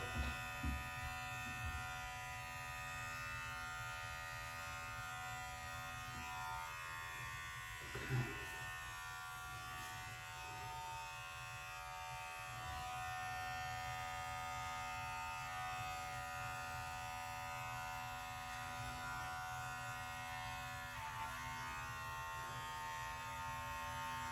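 An electric shaver buzzes steadily and close through a long stretch of shaving, a constant droning hum with slight shifts as it moves over sideburns and face, and only brief faint knocks along the way.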